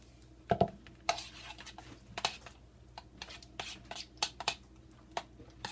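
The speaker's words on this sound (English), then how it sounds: "So now that we have our yogurt and maple syrup, we're going to mix it together" A spoon stirs yogurt and maple syrup together in a bowl, giving close, irregular clinks and scrapes against the sides with soft rubbing between them.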